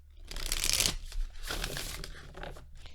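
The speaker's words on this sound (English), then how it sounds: "they feel just as flexible and easy to shuffle to me as other cards do" Large tarot cards from a Modern Love deck riffle through an overhand shuffle, a close, soft papery flutter in a few quick bursts with no talking.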